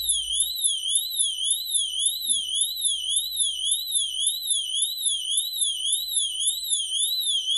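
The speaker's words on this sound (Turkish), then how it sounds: "Evet, hem alarm öttü hem de şu an vanamız kapanıyor." A smart water and gas valve alarm warbles continuously as water triggers it, a rapid rising-and-falling high-pitched electronic tone repeating without pause, loud and close, while the valve closes.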